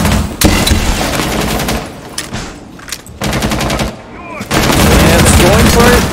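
Bursts of automatic gunfire in Rainbow Six Siege as an operator sprays wildly into a room, loud rapid volleys separated by short pauses, with faint voice under the shooting.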